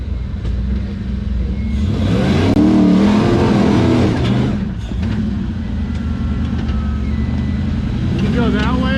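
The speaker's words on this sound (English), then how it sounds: "Smoke rolling off the tires there." An LS-powered car roars and revs hard during a tire-smoking burnout at an outdoor gathering on a farm, engine loud and close throughout with a swelling peak early on, while people talk over it.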